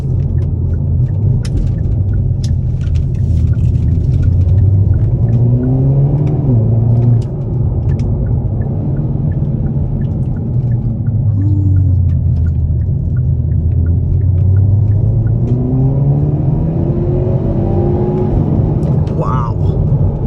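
A 2022 Hyundai Veloster N engine hums and rises through quick revs, the pitch climbing and dropping as gears change, with talk over the steady road rumble.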